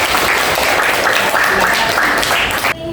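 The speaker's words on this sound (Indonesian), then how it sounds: "Ya, tepuk tangan." A room full of people claps steadily and loudly for a few seconds, then the applause cuts off abruptly.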